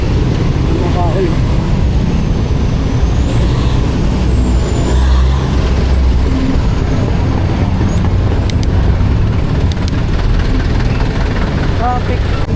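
Loud, busy street traffic with trucks and other vehicles rumbling close by. Brief squeals and hisses rise above the constant engine noise.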